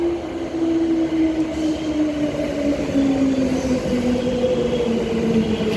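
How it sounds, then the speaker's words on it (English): A Transperth four-car EMU electric train on a Fremantle service rolls into the station platform, its steady motor whine and rail rumble sliding gradually in pitch as it approaches, loud and continuous throughout. "We have a Fremantle service. Train's arriving."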